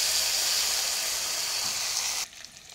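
Mint leaves frying in a pan for mutton biryani, a steady bright sizzle that runs loud and even, then drops off sharply near the end to a quiet crackle.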